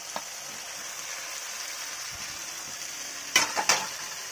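Fried cauliflower and potatoes sit in masala on a gas flame, giving a quiet steady sizzle with faint ticks, then two or three clear scraping stirs of a spoon against the pan near the end.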